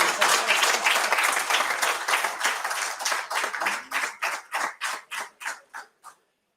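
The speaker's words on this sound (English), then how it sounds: "applause was extremely weak for the kind of work he has done" An event audience applauds in a dense burst that thins out over about six seconds into a few slower, separate claps before stopping.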